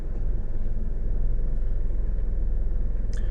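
A Nissan engine idles in gear with the A/C back on, a steady low rumble that carries through the whole stretch without any break, heard close up with a brief higher click near the end.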